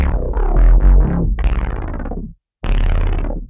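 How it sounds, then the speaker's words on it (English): A deep, growling synth bass pitched down an octave plays a few notes, some wobbling and distorted, then a short silence before one more heavy sustained note. "This preset pitches down your bass an entire octave,"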